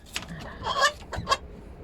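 A pet hen clucks in a few short, close bursts, with brief quiet gaps between the calls.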